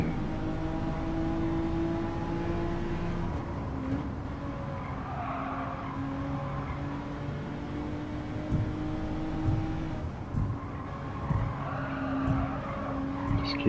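A race car in Gran Turismo 7 at the WTC 600 Tokyo East race holds steady engine notes at speed, with tire squeal and shifting pitch toward the end and no talk.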